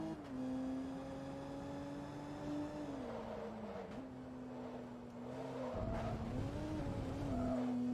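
A race car in Forza Motorsport 2, driven in a 500HP invitational event, holds a loud, steady engine drone with pitch rises and dips as it revs and shifts, and tires squeal briefly near the end.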